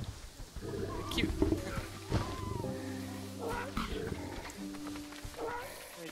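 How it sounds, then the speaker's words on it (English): Lions roaring in the zoo-building video game Planet Zoo, several deep roars and growls overlapping amid wild animal calls and a faint music bed, with no talk. "And also the lions have cubs."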